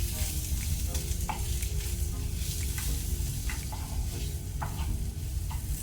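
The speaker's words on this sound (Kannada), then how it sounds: "ಲೋ ಫ್ಲೇಮಲ್ಲಿ ಸ್ವಲ್ಪ ಫ್ರೈ ಮಾಡ್ಕೊಳ್ಳುವ" Ground chilli powder and turmeric fry on a low flame for an Indian onion and chana gravy, giving a steady, close sizzle with soft spoon-stirring scrapes throughout and no voices.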